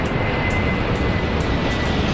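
A steady, broadband roar of a jet aircraft engine in the video game Airport Madness 4, constant and even throughout without pauses or talking.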